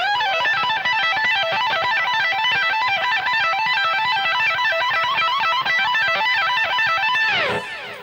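Fast electric guitar tapping lick built from pentatonic and blues scale shapes: a dense, rapid cascade of bright repeating notes played alone for about seven seconds before a quick descending flourish at the end.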